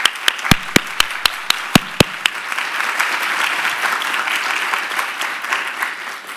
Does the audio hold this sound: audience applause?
yes